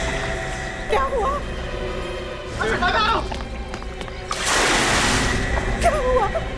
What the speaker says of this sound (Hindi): ये तो किसी के पानी में गिरने की आवाज है